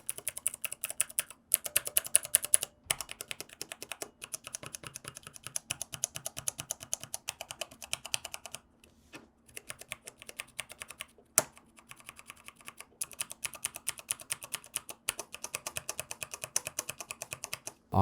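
Rapid typing on mechanical keyboard switches, a dense stream of crisp clicky keystrokes in bursts with short pauses between runs, close and fairly quiet with no voices.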